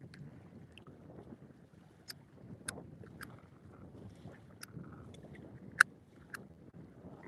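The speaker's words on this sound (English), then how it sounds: "This wind sucks." Wind blows outdoors beside the water on a catfish fishing outing, a faint, low rumble buffeting the microphone, with scattered light knocks and clicks from the boat.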